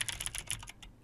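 Computer keyboard keys tapped in quick, uneven bursts while playing the rhythm game DJMAX RESPECT V, close and crisp clicks over a soft background that thin out toward the end.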